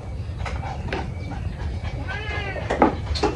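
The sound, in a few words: cat meowing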